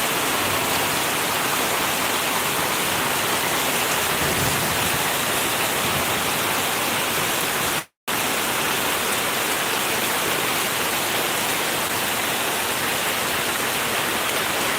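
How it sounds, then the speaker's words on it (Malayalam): Heavy rain pours down in a dense, loud, unbroken hiss that fills the scene, with only a split-second cut partway through. "നല്ല സൂപ്പർ മഴയാണ് പെയ്യുന്നത് കേട്ടോ"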